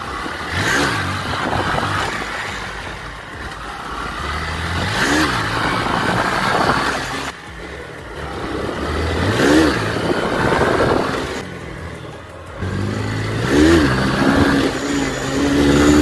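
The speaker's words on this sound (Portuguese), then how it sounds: "a moto tá subindo pra caralho" A motorcycle engine revs hard again and again during wheelie practice, loud and close, each throttle blip rising and falling in repeated surges with short pauses between them.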